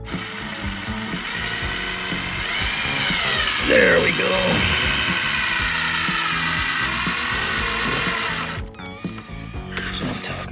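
A power drill whirs steadily for several seconds as it drives a screw, without a pre-drilled hole, while an RV recliner is installed, then stops; a person speaks briefly near the end.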